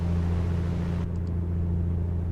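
Steady, loud drone of a Piper Comanche's piston engine during a run-up at 2,000 RPM, a strong low hum that turns muffled partway through, with faint beeps.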